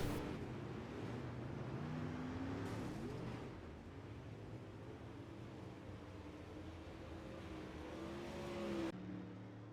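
Super late model race cars race at Eldora, their engines droning and rising and falling in pitch as they circle the track, heard faintly and at a distance with a sudden drop near the end.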